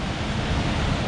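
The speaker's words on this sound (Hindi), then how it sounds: "जो शोर सरस्वती नदी का आपको अभी सुनाई दे रहा है" Rushing Saraswati river at Mana village near Badrinath, a steady, loud, broadband roar of fast-flowing water with no breaks and no voices over it.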